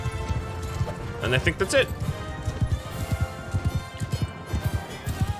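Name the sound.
horse galloping hooves in the video game Mount and Blade Bannerlord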